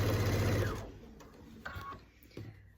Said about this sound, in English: I'm going to keep sewing until I get to the point where it started.